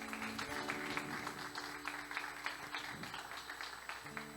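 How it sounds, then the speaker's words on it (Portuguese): A congregation in a Portuguese-speaking church claps together. The applause is faint and distant, a continuous patter over a steady hum and faint tones. "Você pode aplaudir mais uma vez."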